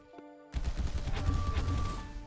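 A rifle fires in a first-person shooter survival game with robot enemies, a sudden dense burst of rapid gunfire erupting after a brief quiet hum and continuing steadily to the end.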